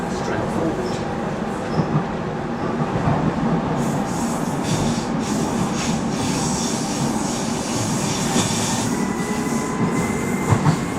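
A DLR train on a London ride rumbles steadily from inside the front carriage, with wheel clatter and faint squeals over a constant loud roar for the whole stretch.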